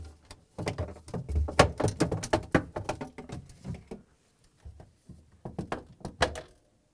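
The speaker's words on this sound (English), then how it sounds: "To get to the part, we need to open the refrigerator door." An LG/Kenmore refrigerator door being opened, with a string of close thunks, clicks and rattles in quick bursts, a short pause, then a few more knocks as the door and shelves are handled.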